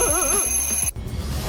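An alarm clock rings loudly and alone with a rapid warbling electronic tone for about a second, then cuts off abruptly into a brief pause and low background noise.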